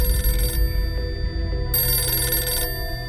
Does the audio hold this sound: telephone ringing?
yes